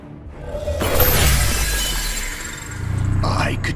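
A shimmering energy shield shatters in Marvel vs Capcom Infinite, a loud crashing break with glassy high debris ringing out, then a second crackling burst near the end, under voiced dialogue.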